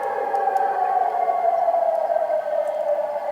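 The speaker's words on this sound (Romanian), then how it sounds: "Aici s-aud sirenele." Air-raid sirens wail in Russia during a drone attack, a loud, continuous tone that slowly glides down in pitch, with faint clicks and no voices.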